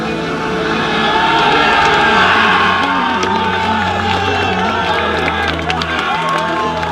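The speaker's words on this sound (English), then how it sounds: "the crowd rises to their feet. They're chanting, Nanu, Nanu, Nanu." A stadium crowd at a football game rises, cheering and rhythmically chanting a player's name, loud and sustained with whoops and shouts swelling across the whole stretch.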